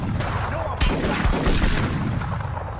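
Dense video-game gunfire in 25 To Life, a loud continuous barrage of overlapping shots and booms from close range, with voices faintly mixed in.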